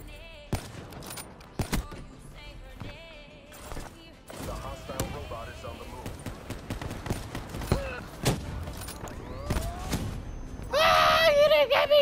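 Rapid automatic sniper rifle fire in a video game, sharp shots spaced through the scene amid game effects, with people talking over it.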